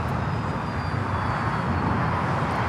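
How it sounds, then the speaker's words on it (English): An American Airlines Boeing 787-9 Dreamliner takes off at LAX with a steady, fairly distant engine roar. The rumble holds even and unbroken with no voices. "This is American Airlines 3249 taking off to Chicago on the 787-9 Dreamliner."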